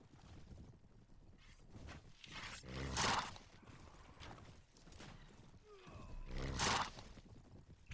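Horse in Mount and Blade: Full Invasion 2 battle, with two loud neighing whinnies around three and six and a half seconds over continuous galloping hooves and a busy combat din.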